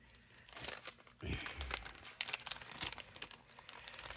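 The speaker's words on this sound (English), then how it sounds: "Before I lose this plastic bag," A plastic bag crinkles and rustles beside a Spellbinders BetterPress letterpress plate during card making, in irregular bursts of crackling close to the microphone, with a few soft thumps mixed in.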